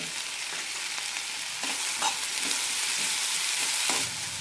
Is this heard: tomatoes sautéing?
yes